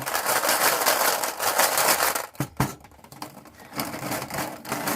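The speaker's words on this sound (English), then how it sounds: "So let's go ahead and shuffle these up." Small plastic capsules are shuffled by hand, a dense rapid rattling and clicking that runs close and fairly loud, breaks off briefly with a couple of sharp knocks, then resumes more lightly.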